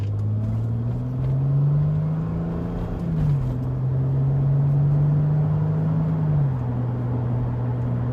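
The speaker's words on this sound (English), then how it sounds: "you can't beat the sound of VTEC" A 1998 sixth-generation Honda Accord with a VTEC engine drones at a steady low rev, with the pitch climbing gradually, dropping, then rising again in a smooth continuous hum heard from inside the car.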